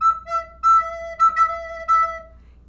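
A recorder blown with too much breath gives harsh, strongly attacked notes in short separate bursts, several in a row, close and alone.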